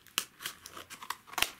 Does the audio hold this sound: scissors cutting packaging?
yes